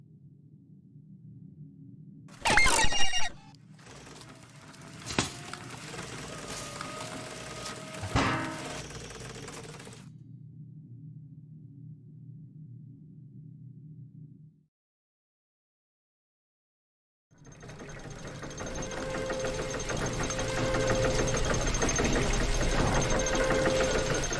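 Machine engine in The Book of Unwritten Tales 2 starting after a lever is pulled: clanks and thumps give way to a steady low mechanical hum that cuts off, and after a pause a louder rumbling, rattling run fills the rest.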